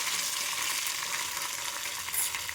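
Dried red chillies, curry leaves and coarsely crushed garlic sizzle in hot oil for a tempering, a dense, steady crackling hiss with no breaks.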